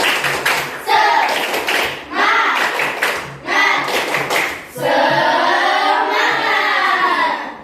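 A group claps together in a counted pattern of short separate bursts that grow in number, then breaks into a longer stretch of rapid clapping as voices shout along.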